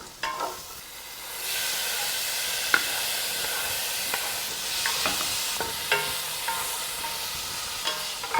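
Tomatoes tipped into a hot frying pan: a quiet start, then a loud hissing sizzle that swells after about a second and holds steady, punctuated by scattered sharp clicks and taps of stirring, with no one speaking.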